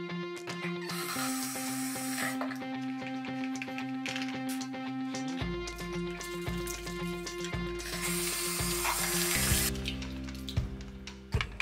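Warm soapy tap water runs and splashes while plastic bottles are rinsed at a sink, a steady close gush with shifting tones as the bottles fill and empty.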